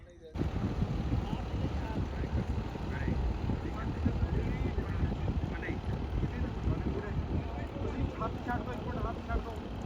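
A motor boat with a Mahindra engine runs on a river near Nangal, Punjab, giving a steady, close engine drone with wind and water wash throughout, while people talk over it.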